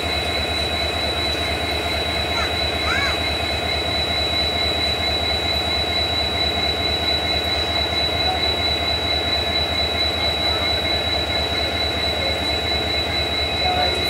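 The Gorakhdham Superfast Express departs platform 9 at Gorakhpur Junction, heard from inside a neighbouring train as a loud, steady rumble of rolling wheels and carriages with a faint squeal, continuing unbroken throughout.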